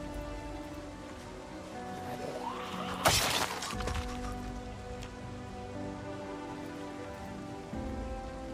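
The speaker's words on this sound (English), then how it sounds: "there's a higher chance to find clay at the moment because it's raining." Steady rain patters in a video game, a continuous soft hiss with a brief sharper crash partway through, and no talking.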